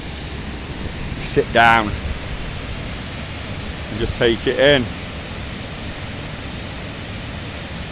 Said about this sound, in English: The sounds of the water as it ripples down over the waterfall.